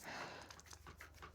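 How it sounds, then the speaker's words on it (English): A dog panting close by, quick rhythmic breaths repeating steadily and faintly across a short stretch indoors in an art room. "That's my dog Bailey"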